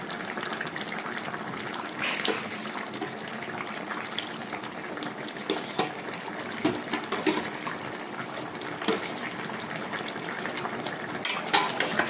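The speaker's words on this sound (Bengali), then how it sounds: "এবার আমি ভেজে রাখা মাছগুলো ঝোলের মধ্যে দিয়ে দেবো দিয়ে দিচ্ছি" Fried bhola fish pieces are dropped into a boiling eggplant curry, with continuous bubbling and hissing broken by scattered clinks and scrapes of a utensil against the pot.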